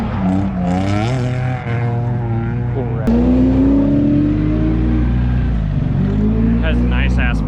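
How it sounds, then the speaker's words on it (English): A BMW E46 drift car engine idles with a rough, uneven rumble, loud and close, while people talk over it throughout. "I don't know why it's idling like that."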